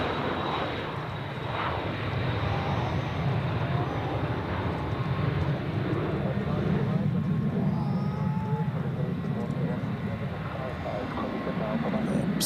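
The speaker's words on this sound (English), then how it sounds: "That's Air Canada, the landing of the 777 from Toronto on 14." An Air Canada Boeing 777 from Toronto, in old livery, landing on runway 14 at Zurich Airport: a sustained, even jet roar heard from a distance, steady for the whole stretch, with talk over it.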